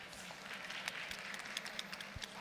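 An audience at a Korean digital asset industry conference applauds, a faint, distant wash of many hands clapping that holds steady for a couple of seconds.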